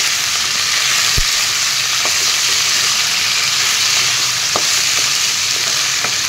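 Chicken pieces fry in a pan for a curry with pointed gourd, potato and tomato, giving a loud, continuous sizzle with occasional sharp stirring clinks close by and no talking.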